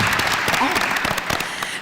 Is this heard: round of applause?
yes